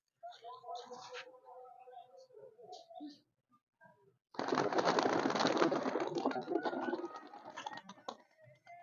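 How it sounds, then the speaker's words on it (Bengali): Pigeons released from a loft take off together, a sudden loud burst of fluttering wingbeats after a few seconds of faint cooing and soft talk, then trailing off. "প্রত্যেকটা পাখি দাদা ছেড়ে দেখিয়ে দিচ্ছে সব উড়বে"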